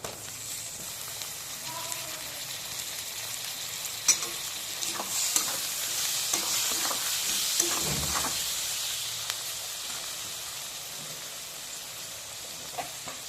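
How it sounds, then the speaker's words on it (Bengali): Onion and tomato fry in a pan with a steady, moderate sizzle and hiss, punctuated by a few stirring scrapes and light clicks, with no talking. "পেঁয়াজটা ভেজে নেওয়ার এই পর্যায়ে আমি দিয়ে দেবো টমেটো।"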